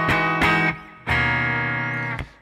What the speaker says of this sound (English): And the dry signal for the guitar sounds like this.